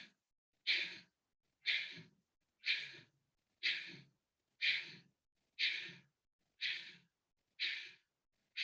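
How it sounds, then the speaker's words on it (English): Kapalbhati breathing exercise: nine sharp, forceful exhalations through the nose, evenly spaced about a second apart, close and clear against near silence. "Now you do Bhastrika, Kapalbhati, only breathing out when it is coming down."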